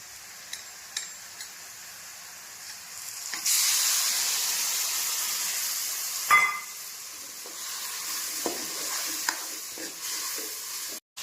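Masala frying in oil with cooked onions in a pan sizzles steadily while a spoon stirs it, with scraping clicks and a sudden louder burst of hiss partway through.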